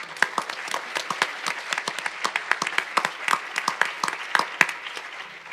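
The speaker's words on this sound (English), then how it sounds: "We forgot to clap for Lilia." A small audience claps for Lilia, a steady patter of applause from a modest crowd in a lecture room, lasting several seconds without speech.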